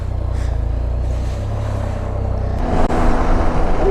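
A Can-Am Spyder three-wheel motorcycle on the road: a constant engine drone with wind rush, close and loud, which shifts and grows slightly louder near the end.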